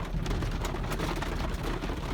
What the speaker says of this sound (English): I'm gonna try to drive carefully in this rain. You guys, it's raining cats and dogs outside.